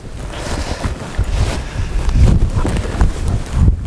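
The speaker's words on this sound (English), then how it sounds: "It's starting to get a bit windy now as well." Strong outdoor wind buffets the microphone during metal detecting in a field, a loud continuous low rumble with gusting surges throughout and no speech.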